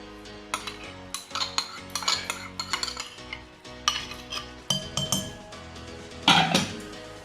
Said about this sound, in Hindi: इसको अच्छे से मिक्स कर लेंगे।